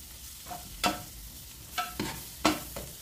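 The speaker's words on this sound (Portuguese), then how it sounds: "Mais uma mexida aqui." Spoon stirring smoked paprika, lemon pepper and salt into a banana soup base in a pan, several distinct scraping strokes spaced a second or so apart over a soft low sizzle, close and fairly quiet with no talk.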